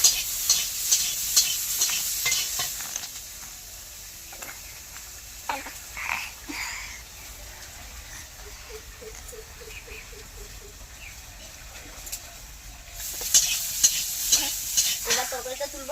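Mixed vegetables stirred together in a pan for a vegetarian village Indian dish. Scraping stir strokes come in bursts at the start and end, with a soft sizzle and light clicks between, close and moderately loud.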